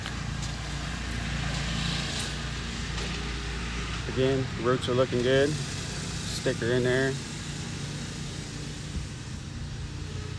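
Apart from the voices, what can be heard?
lawn mower in background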